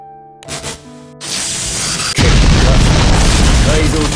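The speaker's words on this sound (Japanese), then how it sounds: "島の上空で爆発、" A modified airship explodes above an island in an anime, a short tonal sting giving way to a rising hiss and then a deep, loud, sustained blast that roars on to the end.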